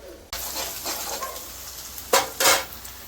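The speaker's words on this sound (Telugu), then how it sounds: "బాగా ఎర్రగా వచ్చే వరకు వేపుకోవాలి." Chopped onions and green chilies fry in a pan for a homemade mushroom curry, giving a steady close sizzle broken by a couple of louder stirring scrapes near the end, with no talking.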